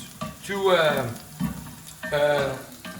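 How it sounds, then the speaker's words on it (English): Hot oil sizzles loudly in a pan as garlic is flash fried, stirred and tossed, with bursts of crackling frying and a voice speaking over it. "flash frying, which is what we are doing right now, the garlic"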